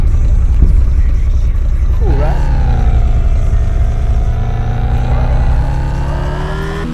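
Car engine sound from a game development asset, a deep droning engine rising in pitch as it revs up and holds, with a brief voice speaking over it at the start.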